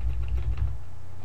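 Rapid clicking of keys on a computer keyboard for about a second, close and moderately loud over a low background hum.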